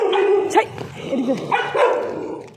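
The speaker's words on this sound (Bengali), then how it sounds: "রাস্তার মধ্যে কুকুরের ঝগড়া দেখছে" Street dogs fight up close, trading sharp barks, yips and whining snarls in short uneven bursts.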